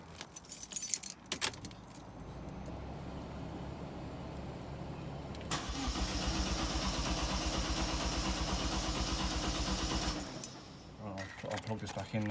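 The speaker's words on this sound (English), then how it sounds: "Just crank it a couple of times, obviously not too much because the fuel injector is still connected. And then I'll start the car." Keys jangle loudly, then a Vauxhall Corsa VXR engine cranks and fires after an oil change, running with a steady close rumble for several seconds before cutting off.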